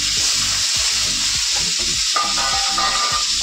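Peanuts fry in hot oil in a pan, giving a steady, close, bright sizzle with scraping stirring strokes repeating underneath throughout.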